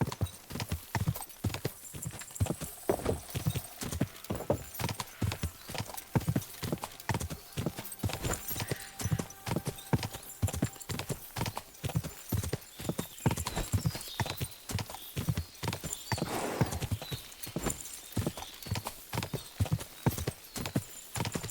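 Hooves clip-clop in a steady, brisk rhythm on a hard surface, close by and continuing throughout, with faint background noise.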